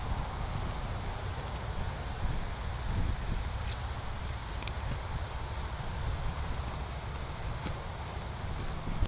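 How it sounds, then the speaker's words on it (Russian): Strong wind blows across an Omsk marsh as a steady broadband roar with faint rustling, constant and fairly quiet throughout, with no voice present. "Что-то, блин, ветерок так поднялся."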